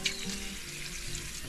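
Strong water gushing from a tap during repair of a household water line, a steady, fairly faint rushing hiss with no talk.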